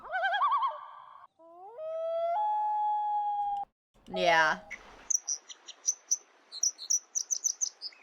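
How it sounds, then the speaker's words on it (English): Varied bird calls ring out clearly: tonal whistled notes and sliding calls, then a dense burst followed by a string of short high chirps, with one brief spoken word. "That's a good bird sound."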